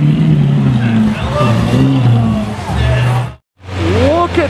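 A DMC-kitted Lamborghini Aventador engine revs loudly up close, with rising and falling throttle blips, a brief cut, then another sharp climbing rev while people talk excitedly over it.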